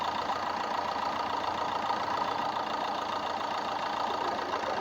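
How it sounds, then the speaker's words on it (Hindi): A freshly rebuilt Fiat 1.3 liter car engine idles steadily at close range, a low even rumble with no revving and no talking. "एकदम मस्त हो गया है इंजन का काम, एकदम प्रॉपर हो गया है, आवाज़ भी एकदम प्रॉपर आ रहा है।"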